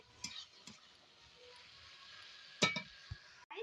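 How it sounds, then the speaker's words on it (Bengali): Banana flower (mocha) with added sugar is stirred in a pan, a soft sizzle running throughout with a few scraping clinks of the spoon against the pot, the loudest near the middle. "চিনি দিয়ে এবার এটাকে ভালো করে নেড়ে ছেড়ে নেব।"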